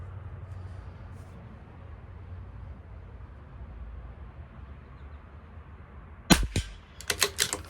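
A CZ 457 LRP .22lr rifle firing Hornady Varmint Express at 50 yards: after quiet outdoor ambience, a single sharp close crack rings out, followed by a few short mechanical clicks and knocks.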